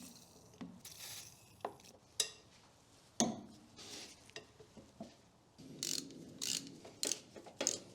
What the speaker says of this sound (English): we're going to remove the tensioner.